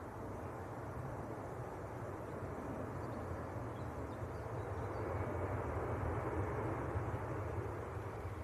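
Avianca-liveried airliner coming in to land at Manchester Airport, a faint distant steady roar that swells slightly toward the end, with no voices.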